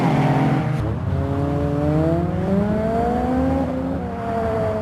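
Street racing cars roar along a busy main road with a 30 mph limit, one loud engine revving up through the gears with rising, swooping pitch, close and sustained over a few seconds.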